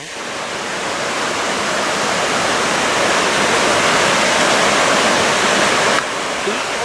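Waterfall at Moulin du Saut: a loud, steady roar of falling water that fills the scene without a break, close by and unchanging, with no voices over it.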